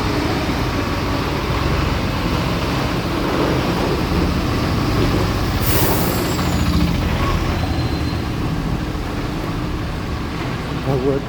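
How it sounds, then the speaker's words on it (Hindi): A vehicle, likely a heavy truck with air brakes, approaches along a road at five in the morning in Dhalbhumgarh, its steady broadband rumble and roar loud and continuous throughout, with a voice faintly present. "गाड़ी आ रहा"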